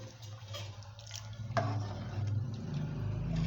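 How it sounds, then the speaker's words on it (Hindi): Water pours into a cooking pot for chana pulao, a close, continuous splashing and gurgling stream that grows slightly fuller as the pot fills. "तो अब मैं पानी इसके अंदर तकरीबन जो है 1 kg और 1 पाव ऐड करूँगी।"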